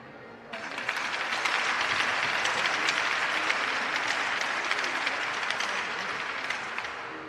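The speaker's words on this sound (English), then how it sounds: "please join me in one more round of applause for all veterans, for the present and past" A crowd at an amateur hockey game in Fort Wayne breaks into applause for military veterans. The clapping starts abruptly and swells into a dense, steady roar that fills the arena and holds for several seconds.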